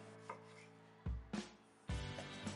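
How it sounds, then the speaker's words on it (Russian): A knife finely chops fresh parsley leaves on a cutting board in a few distinct strokes, quiet and close, separated by short pauses. "Сами же листья качественно и мелко шинкуем."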